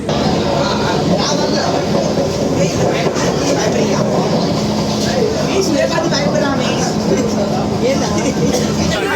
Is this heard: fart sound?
no